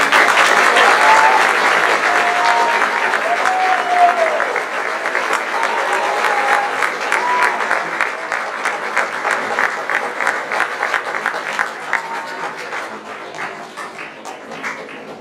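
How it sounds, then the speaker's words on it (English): Sustained audience applause at a school band concert, a dense wash of many hands clapping that stays steady and fairly loud for the whole stretch, slowly thinning toward the end. "Now for a round of applause for all of us."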